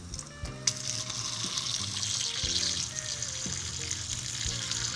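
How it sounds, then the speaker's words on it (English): Near-boiling water from an Insta-Hot hot water dispenser pours steadily into a bowl in a home kitchen, a continuous close splashing stream with a faint hum underneath. "This right here is called an Insta-Hot. It puts out water almost at boiling."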